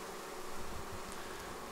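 A swarm of honey bees moving into a hive and clustering on its front gives a faint, steady, dense buzzing hum.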